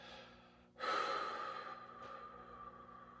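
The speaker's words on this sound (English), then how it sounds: "We're going to exhale." A single slow, steady exhale during a choir breathing exercise, a soft breathy rush that starts abruptly and continues evenly with a slight fade, close and alone.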